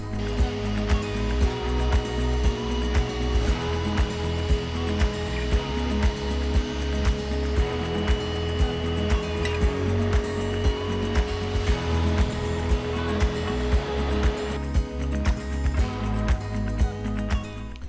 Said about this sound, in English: I'm going to finish it up by extracting the leftover water.